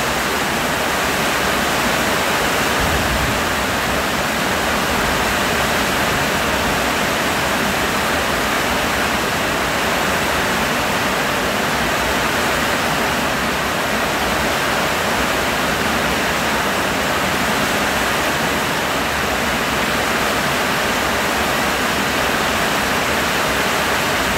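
Heavy rain driven by strong wind at seven in the evening, a steady loud broadband roar with constant hiss and low rumble running unbroken throughout, with no voices.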